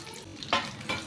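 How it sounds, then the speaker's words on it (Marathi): Crushed garlic cloves hit very hot oil, giving a short close hiss that swells in two quick bursts over a low steady sizzle, with no talking. "आता यामध्ये आपण हा लसूण टाकून घेऊया"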